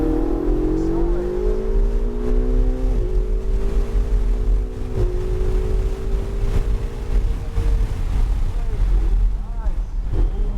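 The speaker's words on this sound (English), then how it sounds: "now you can go ahead and roll on that gas. Accelerate." A Ferrari accelerates hard on a race track, its engine a loud, continuous roar that climbs in pitch and drops at each gear change, repeating over several seconds.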